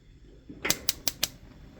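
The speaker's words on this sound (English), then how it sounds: "And then you can hit this starter button." Four sharp mechanical clicks from a Dyna-Glo 30,000 ventless propane garage heater's igniter button in quick succession, evenly spaced, close and fairly quiet against a faint hiss.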